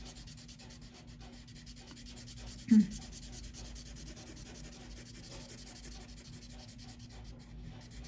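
Crayon or colored pencil rubs back and forth on paper while a space is colored in, a faint, close, steady scratchy rubbing with one brief bump partway through.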